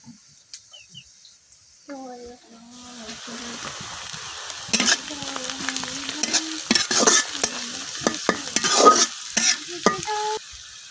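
Chopped green chilies fry and are stirred in hot oil for a tomato puti fish curry in a village kitchen, the sizzle swelling loudly as they hit the pan, with scraping stirs and a nearby voice talking throughout.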